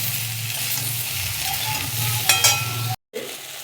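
Mixed vegetables and eggplant fry together in hot oil in a wok-like kadai, a continuous close sizzle broken by a few spatula scrapes and clinks before a short cut, then the frying resumes.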